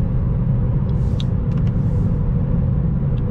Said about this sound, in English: You can definitely hear that K-Series motor.